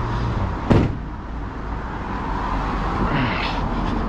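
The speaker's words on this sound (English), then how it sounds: "Let's close that door for a sec." A door on a truck recovering a 40-tonne Mercedes unit and trailer shuts with a single loud thud early on, followed by steady engine or air hum and a softer knock later.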